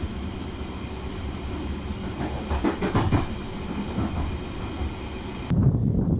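A London Underground Piccadilly line train rumbles along with rhythmic clickety-clack from the wheels on the rails and a steady rolling drone. Near the end there is a louder low shift.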